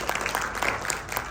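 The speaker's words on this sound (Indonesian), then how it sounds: "Berikan tepuk tangan dulu bagi dia." Brief applause from a church congregation during a sermon at GBI Rock Cianjur, a dense patter of hand claps at moderate level, steady over the short span with no voices.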